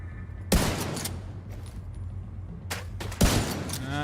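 Gunfire in a shooter game: two sharp, loud shot bursts with ringing crackle between, distant rattling fire underneath, fairly close and without talk.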